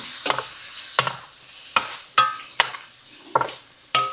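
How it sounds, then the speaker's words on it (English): Onions wilting down and caramelizing in a pan for Philly cheese steak sliders, with a spoon stirring in sharp scraping strokes about every half second over a faint sizzle. "I want these onions to completely wilt down and caramelize."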